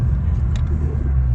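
A Dodge Charger Scat Pack engine rumbles at idle, a close, loud, steady low drone throughout the short stretch.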